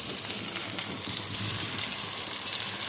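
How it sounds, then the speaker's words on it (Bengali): Pumpkin slices frying in oil in a pan, a continuous bright sizzling hiss that stays close and fairly loud throughout, with no talking. "কুমড় ভাজিটা বসিয়ে দিই"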